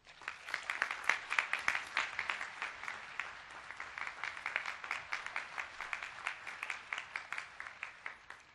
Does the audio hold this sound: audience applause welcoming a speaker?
yes